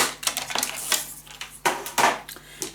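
Crisp, close snips and rustles as scissors cut a piece of paper for a blue gatefold mini album, several uneven sharp cuts in quick succession with no voices.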